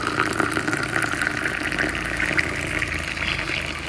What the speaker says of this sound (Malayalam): കാപ്പി ഒഴിച്ചു കൊടുക്കാം